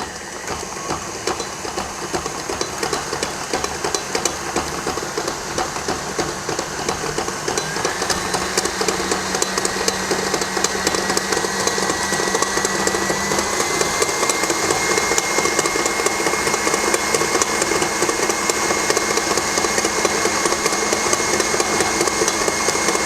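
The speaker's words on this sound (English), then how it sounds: "beat them on medium-high speed until the butter and the sugar creams" An electric mixer whirs continuously at medium-high speed, creaming butter and sugar for a brown butter cake. The motor holds a steady, fairly loud buzz throughout with no talking.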